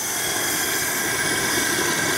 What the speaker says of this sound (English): That is the sound of cooking turkey.